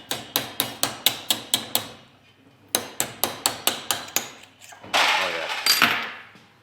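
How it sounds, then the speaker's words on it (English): A small wrist hammer strikes metal in quick even runs of sharp ringing blows, close and loud, with two bursts of about eight hits, then a rougher scraping clatter at the end. "This is a little wrist hammer."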